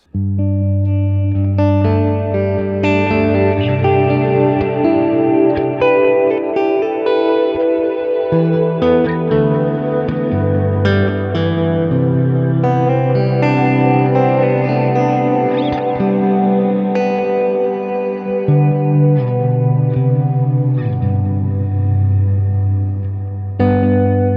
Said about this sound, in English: But here's the cirrus reverb. Got some modulation on there.